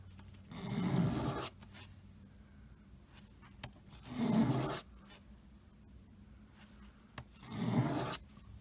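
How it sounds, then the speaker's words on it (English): A small plastic model kit part, a tank bogie piece, is rolled and pulled across sandpaper laid on a desktop, making three distinct gritty rasping strokes, each about a second long, separated by quiet pauses. "I lay a piece of sandpaper on the desktop, and then I take it and I roll it just like that."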